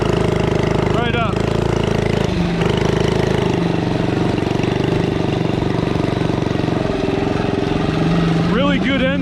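A modified Predator 79cc minibike engine with a torque converter runs loud and close, its pitch rising and falling as the throttle changes, with brief revving sweeps near the start and end.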